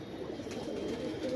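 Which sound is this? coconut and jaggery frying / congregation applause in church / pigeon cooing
pigeon cooing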